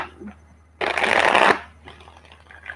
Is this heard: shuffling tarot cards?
yes